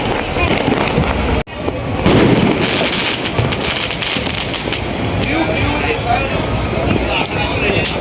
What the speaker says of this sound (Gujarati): ગાઈસ ફટાકડા ફૂટવાના ચાલુ થઈ ગયા છે.